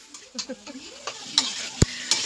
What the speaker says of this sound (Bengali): মাটন কষানো চলছে